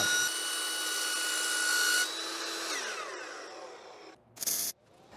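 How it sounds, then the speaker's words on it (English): An Evolution chop saw cuts through metal for a go-kart build, a loud, close, high-pitched grinding whine that holds for about two seconds, then winds down with a descending tone, followed by a brief metallic clatter. "Evolution chop saws are freaking amazing"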